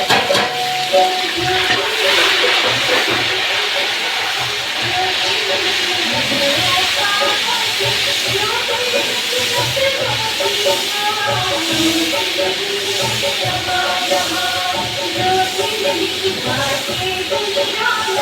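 Green chili and ginger sizzle steadily in hot oil, a loud continuous hiss with crackling that runs the whole time while a voice talks over it.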